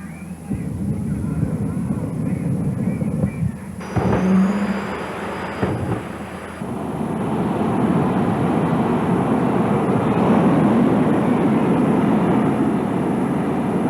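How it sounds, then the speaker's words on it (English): Jet cars roar on a drag strip at the 1989 US Diesel Truck Nationals, a loud powerful whooshing rumble, a high whine cutting in partway through and the roar swelling toward the end. "a display of crowd-pleasing jet cars that set the drag strip ablaze with light and noise"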